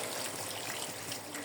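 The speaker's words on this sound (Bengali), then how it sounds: "এখন আমি জল দিয়ে দিব।" Water pours steadily into a pot of chicken curry to make gravy, a soft continuous rushing trickle with no talk.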